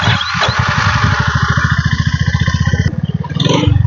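A Honda CB350 motorcycle engine runs up close with a loud, steady rhythmic thumping, revving briefly near the end.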